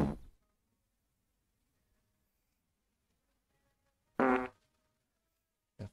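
A cartoonish fart sound effect: a short burst at the start, a louder, longer, sputtering one after a pause, then a brief final blip.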